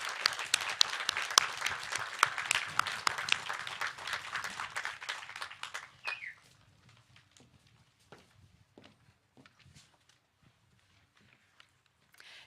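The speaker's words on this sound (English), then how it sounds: "Let's applaud our graduates and encourage them as they work toward success in the future." Audience applause for graduates at a commencement ceremony, a dense burst of many hands clapping for about six seconds, then fading to scattered light claps and quiet room noise.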